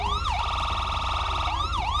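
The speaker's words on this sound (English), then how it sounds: "Down on the D-pad will turn on your siren." A police car siren in GTA V with the LSPDFR mod, loud and close, sweeping up and down in a wailing cycle that repeats twice with no other sound.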